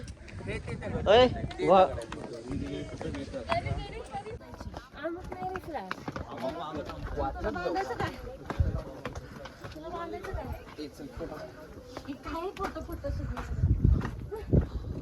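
Hooves clop on a hard floor amid shuffling and movement, with people talking over much of it, sounding like horses in an enclosed stable at Sinhagad fort.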